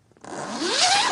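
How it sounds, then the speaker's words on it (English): A tent zipper slides open in one continuous pull lasting about a second, its rasp rising and growing louder as it goes, close up in an otherwise quiet night. "the sound of the tent's zipper being slid open"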